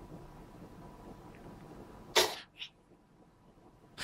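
A cat sneezing, one sharp close sneeze followed by a smaller second one and another starting at the end, over quiet room noise.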